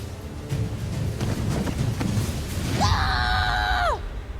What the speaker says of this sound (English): Scare me with your scream.